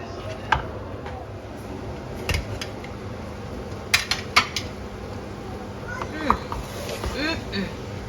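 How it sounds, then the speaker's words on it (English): Crabs going into a pot of efo riro sauce and being stirred gently, with sparse clinks and knocks of utensil against the pot over a low background, a few sharper taps standing out. "Then I'm going to be putting in my crabs. But I won't stir it too much"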